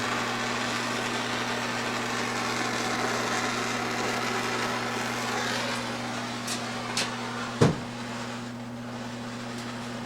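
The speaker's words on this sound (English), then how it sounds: "I do have an exhaust fan in my workshop" A workshop exhaust fan runs with a steady low mechanical hum throughout, with a few faint clicks and a brief knock near the end.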